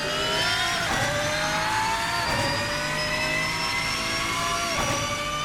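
A Lanzo V12 engine in the Assetto Corsa racing sim revs steadily through its range with a loud, smooth rising whine. The climb drops back briefly at gear shifts around every couple of seconds and carries on with no talking.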